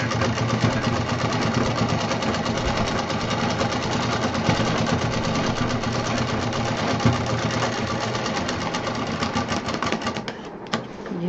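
Sewing machine running continuously while stitching a homemade backpack, a fast, even mechanical rattle of the needle near and steady for several seconds before slowing and stopping at the end.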